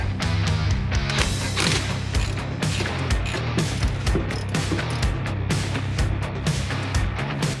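Rapid, continuous clicking of a ratchet wrench loosening the bolts holding a T5 transmission to the bell housing of a Mustang, close and steady with no talk.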